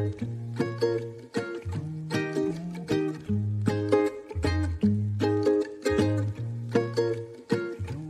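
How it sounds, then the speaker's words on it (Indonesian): An ukulele strums a bright, rhythmic chord pattern with crisp plucked attacks and short decays, played alone at close range. "Itu suara ukulele."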